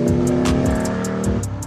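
A racing KrAZ truck fitted with an 1100 hp tank engine drives close by, its deep engine roaring and shifting in pitch, loud and alone.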